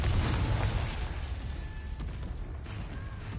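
A Confringo spell blast in the Hogwarts Legacy video game, with a loud deep explosive boom at the start that rumbles and fades into a fiery crackling tail.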